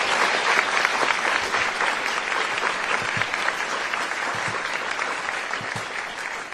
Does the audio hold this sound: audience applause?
yes